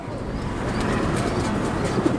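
Rajasthani pigeons cooing, soft low murmuring coos over a steady broadband background hum, fairly faint and continuous with no voices.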